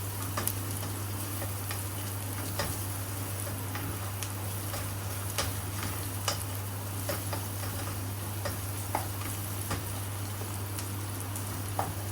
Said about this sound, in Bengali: পেঁয়াজটা অনেকটা ভাজা ভাজা হয়ে এসেছে